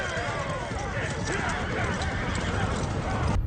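A cavalry attack in a western movie scene brings many horses galloping at once as a dense, rumbling clatter of hooves, continuous and loud, with a voice talking over it.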